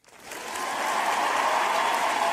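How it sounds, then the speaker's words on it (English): Applause from a live-stream audience swells in within the first half second and holds as a steady, dense wash of many hands clapping for about two seconds, fairly loud and unbroken. "Let's get a round of applause."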